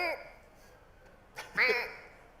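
A performer at a live Dungeons & Dragons show at MCM Birmingham 2021 imitates a duck with a quick quack, then a second, louder nasal quack after a short pause, over quiet room noise.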